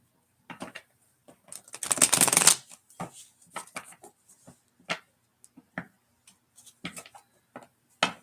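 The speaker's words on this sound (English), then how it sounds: "I'm shuffling my cards right now." Tarot cards being shuffled by hand in a quiet room, a burst of dense riffling near the start followed by scattered soft taps and slides of the deck, close and clear with no talking.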